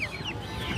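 Chickens at a Tongi poultry market, young tiger and deshi birds about 1.5 months old, clucking steadily in a short burst, fairly close and clear, with no talk over them.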